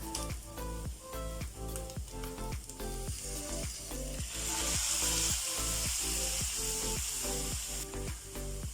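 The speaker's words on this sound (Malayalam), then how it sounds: "ഇനി ഞാൻ ഇതിലേക്ക് വിനെഗർ ചേർത്ത് കൊടുക്കാൻ പോവുകയാണ്. 1 ടേബിൾ സ്പൂൺ വിനെഗർ." Chicken roast sizzles steadily in a pan after a tablespoon of vinegar goes in, with a quick run of rhythmic scraping clicks from stirring layered over the frying hiss; no one speaks.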